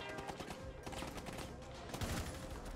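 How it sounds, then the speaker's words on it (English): Dense gunfire in the video game Rainbow Six Siege, with rapid overlapping shots forming a continuous fusillade throughout, fairly faint in the mix. "I almost shot Nock right in the head."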